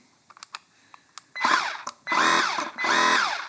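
A small cordless Parkside pressure washer motor, running dry, whirs up in three sustained bursts of about half a second each, preceded by a few light clicks and taps, close by with no talking.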